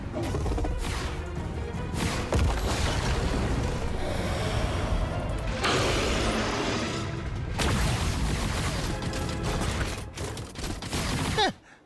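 Loud, continuous crashing and booming blasts with rumbling debris, a dense barrage of explosive impacts that ends abruptly.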